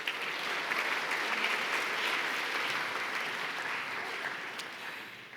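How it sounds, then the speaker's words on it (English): Steady audience applause for a singer at a heritage awards event, a continuous dense wash of many hands clapping, moderately loud and even throughout. "a round of applause for Aliana"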